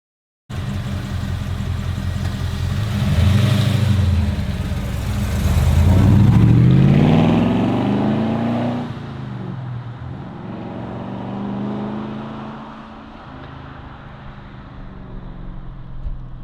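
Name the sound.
HQ Holden car engine revving while shifting gears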